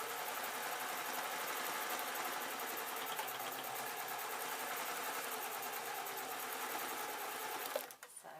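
Sewing machine stitching fabric for a desk tidy, a fast, steady mechanical whirring rattle running continuously up close before stopping abruptly near the end.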